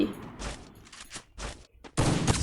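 Gunfire in a shooting video game, several short loud bursts of rapid shots with brief gaps between them, ending in a longer heavier volley, with no voices.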